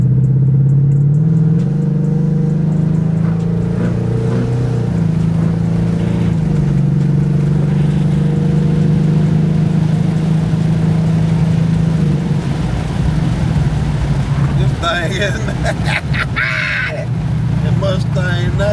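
A new Ford Mustang engine runs loud and steady close by in a low throbbing rumble, with some rising revs toward the end and someone talking over it at times.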